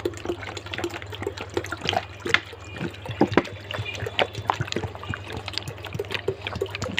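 Water is poured into a dough mixture, a close run of small trickling splashes and sloshing over a low steady hum, with no voices.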